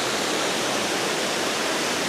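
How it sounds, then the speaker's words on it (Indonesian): Water from an underground river flows without pause out of a cave spring, a dense, even rushing roar that fills the space, steady and close with no voices. "Jadi ini sungai bawah tanah yang airnya itu mengalir terus menerus gitu ya"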